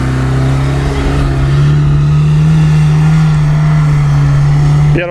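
A 1.9-litre, 120 hp engine pulls away in first low-range gear, revving loud and steady with a strong low drone through the whole stretch.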